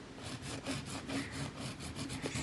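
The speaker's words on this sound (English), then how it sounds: "filing in that smile line" Nail file rasping across the smile line of a nail, a close, soft scratching in quick repeated back-and-forth strokes with a steady rhythm and no speech.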